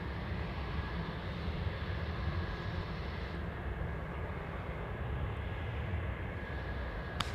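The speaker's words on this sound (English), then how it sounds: "Next arrival, another 737." A Boeing 737 arriving at Anchorage airport, a distant, steady broadband jet roar that holds evenly throughout with no voices.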